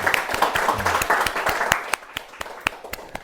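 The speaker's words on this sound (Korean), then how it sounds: "먼저 하나님께 우리 영광의 박수 올려드리도록 하겠습니다" A church congregation claps in applause at a Sunday worship service, a dense burst of many hands that fades after about two seconds into a few scattered claps.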